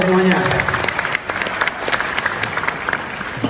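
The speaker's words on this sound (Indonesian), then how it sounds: "Tepuk tangan untuk kalian semuanya." University students at a public lecture in Gorontalo, Indonesia, applaud in a steady, dense round of clapping that fills the hall, with a voice briefly audible at the start.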